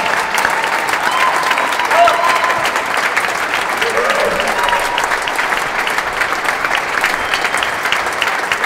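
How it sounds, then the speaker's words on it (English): Sustained crowd applause fills the space after a real tennis singles final between Robert Fahey and Camden Riviere at the British Open, a steady dense wash of clapping throughout with faint voices mixed in. "The applause is usually for the winner,"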